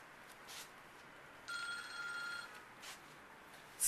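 A mobile phone rings once in a quiet room, a steady electronic trill lasting about a second, fairly clear above low background hiss.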